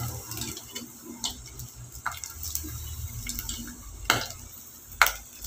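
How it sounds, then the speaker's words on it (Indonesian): Half-cooked chicken sempol with an egg coating fries in hot oil, giving a soft continuous sizzle broken by scattered sharp pops and crackles, close and moderately loud. "kamu menggoreng setengah matang agar telurnya bisa maksimal melekat pada sempolnya"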